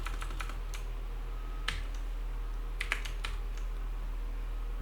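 Typing on a computer keyboard with a rearranged layout: irregular light key clicks with a few sharper taps, close by in a quiet room, no talking.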